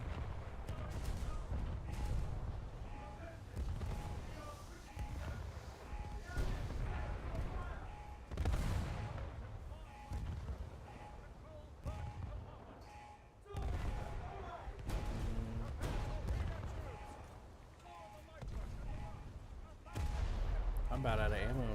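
Heavy battleship guns boom repeatedly in a naval combat video game, a dense run of deep blasts and rapid secondary fire with explosions, loud and continuous, while a player talks over the action.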